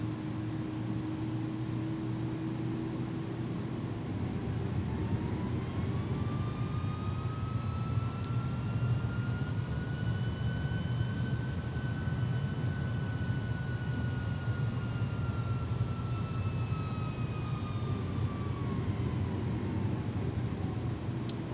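Landing gear lowering on an A300-600 freighter in the X-Plane 11 flight simulator, heard as a steady, loud cabin rumble of jet engines with a thin whine that rises and fades across the approach.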